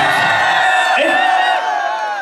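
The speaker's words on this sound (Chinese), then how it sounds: "掌声鼓励" Students at a vocational high school civic training event cheer and whoop loudly as a crowd, a dense burst of shouting voices that dips slightly toward the end.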